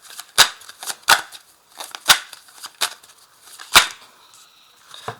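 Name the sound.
tarot cards being shuffled and drawn from the deck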